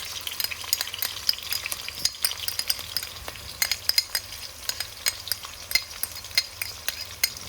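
Garlic and ginger sizzle steadily in a hot pan, a dense close frying hiss with frequent sharp pops and crackles throughout.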